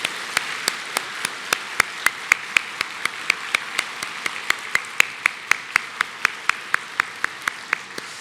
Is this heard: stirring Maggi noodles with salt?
no